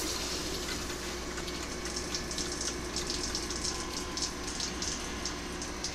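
Water rushes steadily through old iron pipes just turned back on in a farmhouse, a continuous broadband hiss and gush with a faint low hum, fairly quiet and without talk.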